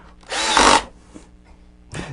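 A handheld power drill whirs in one loud half-second burst while a glue gun holder is being built, then stops, followed by quiet room tone and a brief second start at the end.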